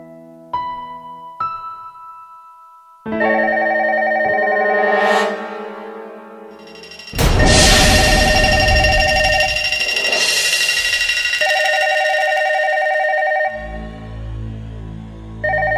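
A telephone on an outgoing call plays dialing tones and then a steady electronic ringtone that repeats loudly and continuously, with no talk over it, in a Chhattisgarhi film scene.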